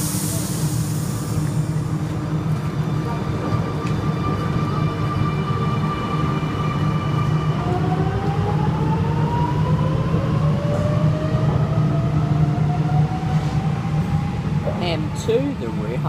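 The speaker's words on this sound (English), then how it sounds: "MacArthur service departing platform number two." Sydney Trains train pulling out of platform two at Green Square station, a steady low rumble with rising motor whine tones building as it accelerates away, under station ambience.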